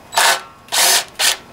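A power tool spins nuts off the studs of a Subaru pressure washer, three short, loud, whirring bursts with brief pauses between them.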